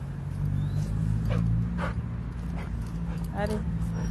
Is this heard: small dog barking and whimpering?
yes